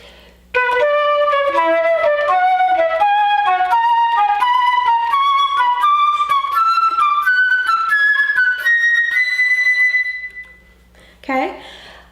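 A flute plays a rising scale exercise in thirds with a short-long rhythm, clear and close, the notes climbing steadily before a final held tone and a brief voice.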